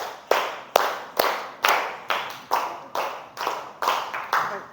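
Group clapping in a classroom-style teacher training session, ten sharp claps spaced evenly in two sets of five, close and loud with no talking over them.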